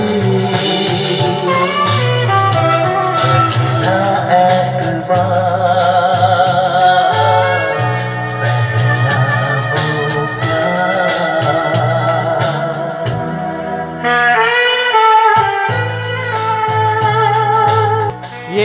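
A song plays from a new car stereo cassette player, continuous melodic music with vocals and instruments at steady moderate loudness, with a short break near the end.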